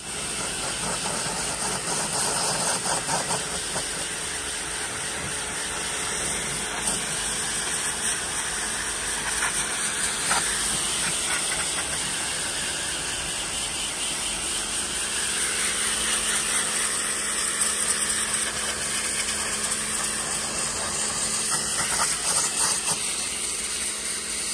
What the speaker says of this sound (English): Let's get that high pressure washer ready and get started taking that off.